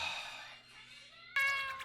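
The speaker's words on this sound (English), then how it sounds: "Yo, poor cat." A cat meows in an anime episode, a thin tonal cry that fades out before a brighter, louder burst of sound near the end.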